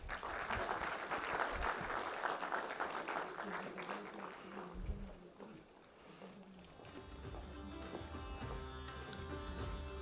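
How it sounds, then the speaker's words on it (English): An audience applauds at a workshop on e-mobility and safe, sustainable transportation, a steady round of clapping that fills the room, eases briefly and then picks up again, with some background voices mixed in. "Please join her in round of applause"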